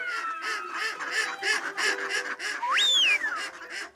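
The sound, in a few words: ducks quacking at Baie de Somme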